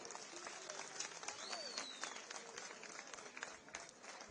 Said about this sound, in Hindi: एक बार जोरदार तालियां अपने लिए बजाओ भाई